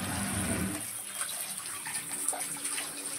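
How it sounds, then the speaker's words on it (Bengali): Running water splashes as fish are rinsed again and again, a steady broad wash that starts fuller and settles into a thinner continuous trickle, close by with no voices. "ভালো করে পরিষ্কারভাবে জল দিয়ে বারবার ধুয়ে নিচ্ছি মাছগুলোকে"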